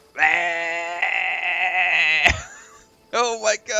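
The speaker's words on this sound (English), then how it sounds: "Oh my god, this poor sheep." A loud, drawn-out sheep bleat sounds close by in Crimson Desert, followed after a short pause by another shorter wavering bleat.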